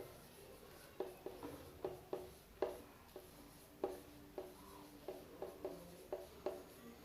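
Pen or pencil scratching out notes on paper in a quiet room, a run of short irregular strokes with small pauses between, close and soft.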